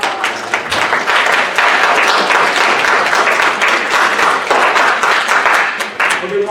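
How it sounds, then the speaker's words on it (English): An audience at a university first-year seminar session applauds continuously, a dense, loud wash of many hands clapping at close range that tapers slightly at the end, with a voice faintly mixed in. "Everybody give them a round of applause."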